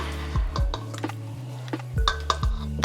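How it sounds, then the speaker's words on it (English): Chicken wing marinade being tossed with metal tongs in a bowl, giving a few sharp clinks and scrapes against the dish in irregular bursts, close and clear with no talking. "I'm gonna use tongs to just mix it up"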